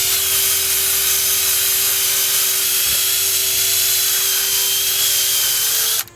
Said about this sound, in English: The drill is a little quicker.